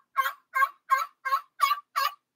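Six evenly spaced turkey yelps, sharp and raspy, repeated in a steady rhythm with short pauses between, close and fairly loud.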